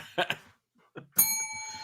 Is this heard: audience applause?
no